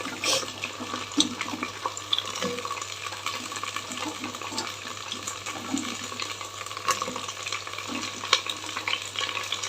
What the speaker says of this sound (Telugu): ఇప్పుడు కొంచెం కొంచెంగా బెండకాయ ముక్కలు ఇందులోకి వేసుకుందాం బాగా నీట్గా వేయించుకోవాలి